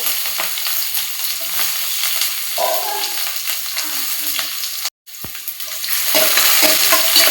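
Onion and garlic paste frying in hot oil with mustard and cumin seeds, a close crackling sizzle with scraping stirs, a brief dropout, then a louder, brighter burst of sizzling as the pan heats up.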